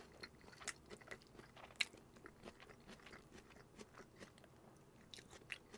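Biting and chewing on egg rice with soy sauce in a home-cooked Korean meal, close and crisp, with repeated soft crunches and wet mouth sounds, one sharper bite standing out, and no talking.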